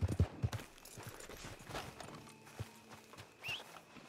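A horse's hooves clop along while riding in Red Dead Redemption 2 online, a soft irregular walking rhythm fairly close, mixed with faint game ambience and a brief higher whinny-like sound near the end.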